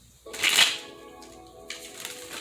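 Tarot cards are shuffled in a brief riffle, a crisp flurry of rapid card flicks followed by softer rustling taps, close and alone.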